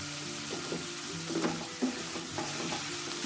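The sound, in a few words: stirring vegetable filling with black pepper in a pan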